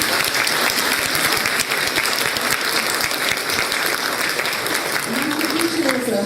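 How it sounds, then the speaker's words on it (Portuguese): Sustained, dense applause from a large audience at a formal civic ceremony, loud and steady throughout with crowd noise mixed in. "Uma salva de palmas."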